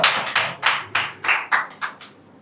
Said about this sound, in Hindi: तालियों से स्वागत करते रहिए।